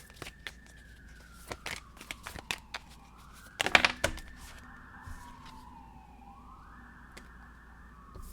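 A wailing siren rises and falls in the distance, faint and steady, with scattered clicks and a brief rustle in the foreground.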